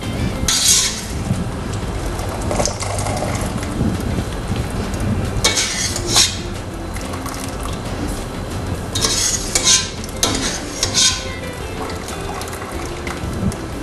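Cooked spaghetti tipped into a strainer to drain, a splashing pour of water with metallic clanks of a pot and rattling bursts, fairly loud and close, with no talk.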